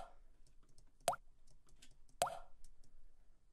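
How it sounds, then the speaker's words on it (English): Two sharp plopping hits roughly a second apart, quiet and close, each with a short small-room reverb tail, over faint scattered clicks and low background noise. "It's like a small room reverb."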